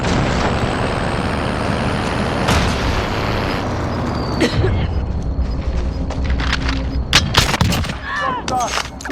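A truck drives through a battle-royale video game, its engine a continuous loud rumble under game gunfire, booms and bursts of voices toward the end.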